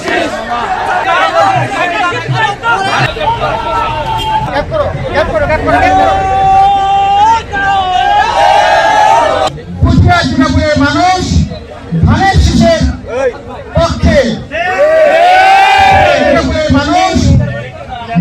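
A large crowd of BNP, Jubo Dal, Swechchhasebak Dal and Chhatra Dal activists at a rally in Puthia, Rajshahi, chanting slogans in loud call-and-response waves over constant crowd babble, close and dense throughout.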